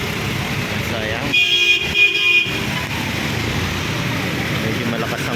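Busy street traffic in heavy rain in Landayan, San Pedro, Laguna, with a loud car horn honking for about a second amid the steady wash of rain and passing vehicles, and a voice speaking nearby.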